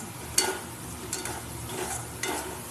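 Potatoes fry with spices in a pan under a soft, steady sizzle, broken by three sharper scraping bursts as the contents are stirred.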